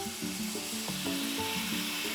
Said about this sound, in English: first we're going to put in our wine, and it's going to spatter up